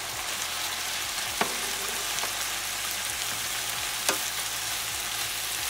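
Ground beef cooking in olive oil in a pan gives a steady, even sizzle, with a few sharp clicks and pops standing out against the constant crackle.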